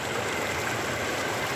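River water streams steadily through a wooden fish cage set in a rocky river, a continuous close, even rushing flow with no talking.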